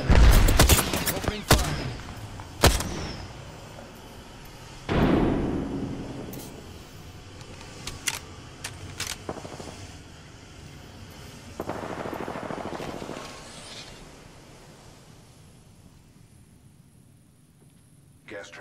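Gunfire bursts in the Apex Legends battle royale, loud rapid volleys and single shots clustered in the first seconds and again around the middle, with game voice lines and effects between and a quieter fading tail.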